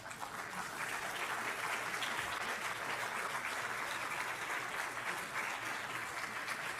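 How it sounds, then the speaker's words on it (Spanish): A church congregation applauds in a dense, even wash of clapping that holds steady for several seconds, spread out and somewhat distant, with no talk on top. "Den un aplauso al Señor."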